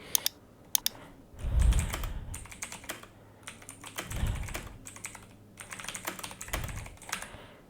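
Typing on a computer keyboard to enter a caption in Premiere Pro, heard as close, quick bursts of key clicks with brief pauses between, alone without talk.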